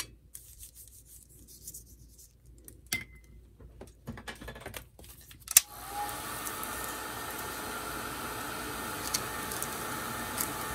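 A hair dryer blowing on watercolor painted onto glassine bags: quiet handling and rustling first, then the dryer switches on around the middle and hums steadily to the end.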